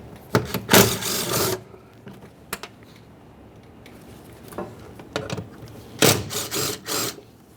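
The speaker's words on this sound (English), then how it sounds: "you have two 10mm headed mounting bolts that we'll have to remove" A ratchet spinning off 10 mm mounting bolts inside the door of a 2009–2014 Nissan Maxima, close, rapid clicking bursts separated by short pauses and small tool clinks.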